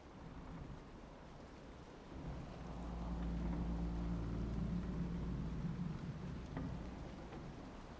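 A rainstorm with thunder in the fantasy game Dragon Age Inquisition: a constant hiss of rain, with a deep rolling rumble of thunder that swells midway and lingers, faint and distant, no voices.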